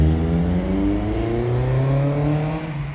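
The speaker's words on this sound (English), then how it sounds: "There's a lot of not so nice cars zooming around today." A car engine revving hard on a city street, its pitch climbing steadily as it accelerates, loud and continuous throughout with no talking.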